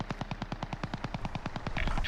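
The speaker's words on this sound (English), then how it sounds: "Now here's the same gun without a muzzle attachment at all." A MAC-10 submachine gun with no muzzle attachment fires in Warzone, a rapid unbroken burst of about twenty sharp shots heard from a distance, fairly quiet and evenly paced.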